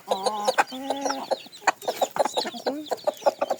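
Hens clucking close by, with a run of short, busy calls and a few longer drawn-out notes overlapping one another.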